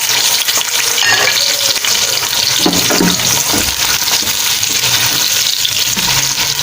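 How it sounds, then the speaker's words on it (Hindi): Chopped onions fry in hot oil in a pan for chicken biryani, producing a loud, steady, close sizzle with faint stirring movements throughout. "अब इसके अंदर मैं प्याज डाल दूंगी ताकि हमारी प्याज ब्राउन हो जाए।"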